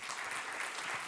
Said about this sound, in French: C'est toujours très présomptueux d'applaudir avant.